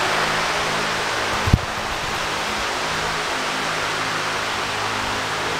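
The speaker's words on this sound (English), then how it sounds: "Fans blowing." Steady broadband rush of fans blowing in a car workshop, loud and constant throughout, with a single brief knock near the start and no voices.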